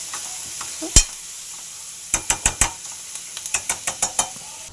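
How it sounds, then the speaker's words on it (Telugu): Cabbage curry seasoned with turmeric and salt, stirred in a frying pan: a sharp utensil clack, then a quick series of spoon scrapes and taps against the pan over a faint sizzle, fairly close. "పసుపు ఉప్పు వేసుకుని ఫ్రై చేసుకోవాలి"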